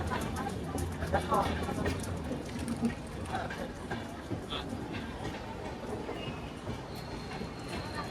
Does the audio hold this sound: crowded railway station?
yes